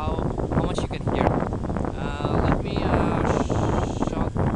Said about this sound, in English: I'm at the Wasaga Beach and it's too windy, so I'm not sure how much you can hear.